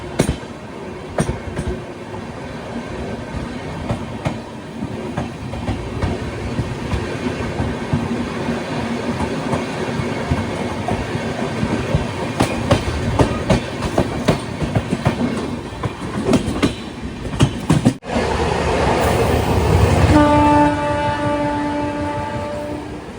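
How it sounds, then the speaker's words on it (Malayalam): The Sealdah Humsafar Express rolls into Naihati station with a loud, continuous rumble and rhythmic clickety-clack of wheels, then a burst of louder noise and steady tonal whine as it slows near the end. "ട്രെയിനിപ്പോൾ നൈഹാട്ടി എന്നൊരു സ്റ്റേഷനിലേക്ക് എത്തുകയാണ്."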